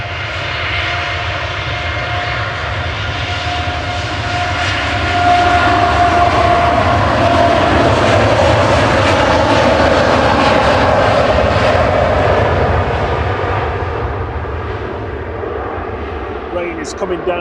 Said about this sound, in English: Dreamliner to Cancun.